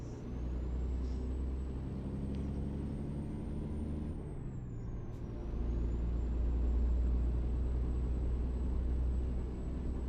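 A big truck slows under braking in American Truck Simulator, a steady low engine and road rumble running throughout with a brief dip and shift midway, no voices over it.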